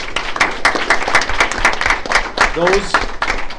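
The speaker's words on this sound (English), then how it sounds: "So let's give those folks a big round of applause." A school board meeting audience applauds staff nominees with moderately loud, individually distinct claps from a modest group, while a voice speaks over the end.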